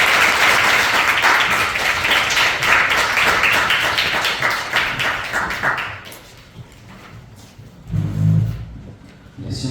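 A lecture audience applauds, loud and dense clapping filling the room for several seconds before thinning out, then a brief renewed burst near the end.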